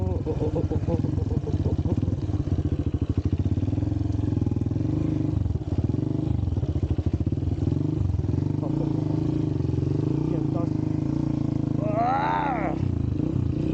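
A dirt bike engine drones steadily up close on a slippery trail, revving and clattering as the rider slides along, with voices talking over it throughout.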